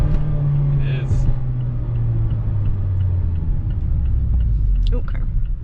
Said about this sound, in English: Ooh, car.